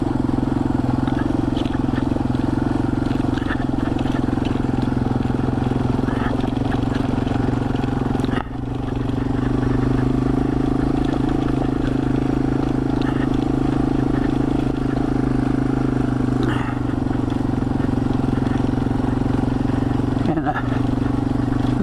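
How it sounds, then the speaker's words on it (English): A 2021 Yamaha TW200 motorcycle ridden off-road, its engine droning steadily and close throughout, with slight shifts in pitch and a brief dip partway through, while a rider talks over it. "this Yamaha TW200 is a 2021 model"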